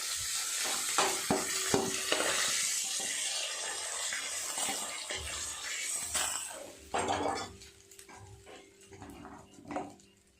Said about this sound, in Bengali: নিয়ে একই তেলে সবজিগুলো খুব ভালো করে ভেজে নেব